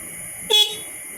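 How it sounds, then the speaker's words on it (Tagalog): A single short beep from the horn of a Kawasaki Barako 175 motorcycle, close and loud, sounding alone. "Tapos busina."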